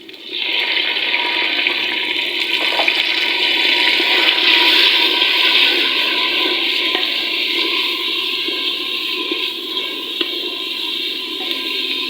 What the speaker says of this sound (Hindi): और थोड़ा सा इसके अंदर मैं डालूंगी पानी।